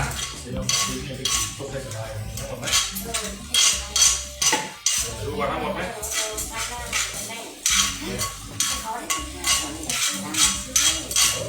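Chili and garlic are stir-fried in a wok, with rapid, rhythmic metallic clanks and scrapes of the spatula against the wok repeating close up over a low background sizzle.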